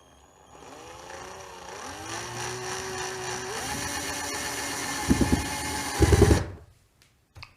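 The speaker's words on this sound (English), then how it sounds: "then you take the screws and you just screw in" A cordless power drill drives screws through a brush draft excluder strip on a garden office door, a steady whining motor with pitch shifts, then two short grinding bursts as the screw bites before it stops.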